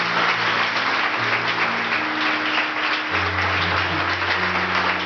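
A church congregation applauding, steady dense clapping from many hands that fills the whole stretch at an even loudness, with sustained organ-like tones underneath.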